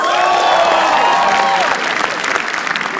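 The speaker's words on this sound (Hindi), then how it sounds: "तालियां प्लीज" Loud audience applause at a comedy roast battle fills the space, dense and continuous, with a few whoops and cheers rising early before the clapping thins slightly.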